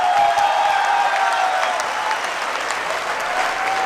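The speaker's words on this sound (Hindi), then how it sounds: "तालियां बजा सकते हो?" Audience applause at a Hindi poetry recital: a burst of dense, steady clapping from a sizeable crowd, loud and close, fading slightly toward the end.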